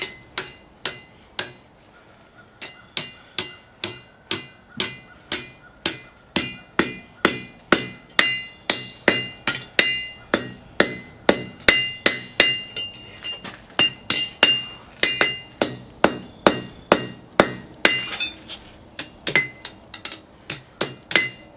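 A hammer strikes hot steel on an anvil while forging a fire poker, in a series of sharp ringing blows. The strikes come in steady bursts with brief pauses, loud and close, with no talk.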